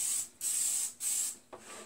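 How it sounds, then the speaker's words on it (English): Cooking spray hisses from a can onto a plate being greased for pizza dough, in two long bursts and then a shorter third, close and fairly quiet, with no voices. "I'll just give it a little spray, and then put the dough on it, and then give it another spray"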